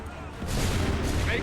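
A musket volley fired on command in Assassin's Creed 3 erupts as one broad, loud rumbling blast after a brief quiet moment and rolls on to the end.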